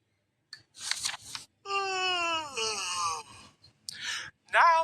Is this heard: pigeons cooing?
no